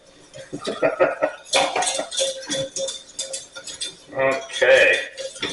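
A spoon stirs potato and cauliflower au gratin in a pot, with repeated close metallic scrapes and clinks against the pot in an irregular rhythm.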